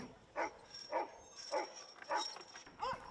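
Sled dogs at a kennel bark in a regular series, five sharp, fairly close woofs spaced about half a second apart, over a faint background whine.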